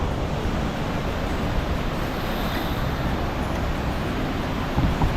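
Flood water thunders over Khlong Lan Waterfall in a loud, constant, close roar of rushing water that never lets up, with no talking.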